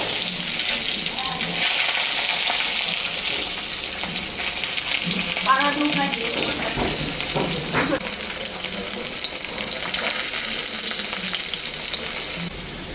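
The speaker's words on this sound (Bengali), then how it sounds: "প্রথমে আলুগুলো আমি ভেজে নিচ্ছি।" Potatoes fry in a pan with a steady, close sizzle that runs throughout, broken by a few clinks and stirring scrapes around the middle, with a brief quieter stretch at the very end.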